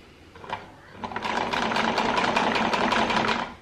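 A sewing machine stitches the front seam of a homemade fabric face mask, starting with a few short bursts and then running as a steady, fairly loud continuous whir for about two and a half seconds before stopping.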